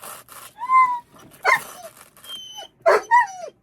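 A small dog gives several sharp yips and whimpering barks in short bursts, close and loud, with quiet gaps between them.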